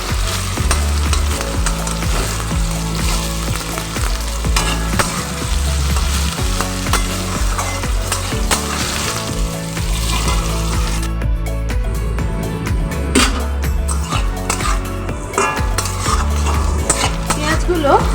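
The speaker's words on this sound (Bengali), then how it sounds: "টুকরো করে রাখা পেঁয়াজ কুটো লঙ্কা ভালো করে ভেজে নেবো" Onion and chilli sizzling loudly in a hot pan, a constant crackling fry with scraping and clinking as a utensil stirs them.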